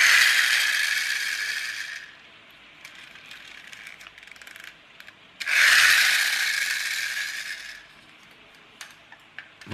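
Clockwork toy car mechanism giving two loud bursts of fast whirring, ratcheting gear buzz separated by a quieter pause, close by with no talking.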